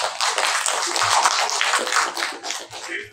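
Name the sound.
audience applause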